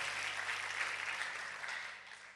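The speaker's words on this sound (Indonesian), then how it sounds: "Yang percaya tepuk tangannya luar biasa buat Tuhan." A church congregation at a revival service claps together in praise, a steady broad wash of hand claps that holds for a couple of seconds and tapers slightly at the end.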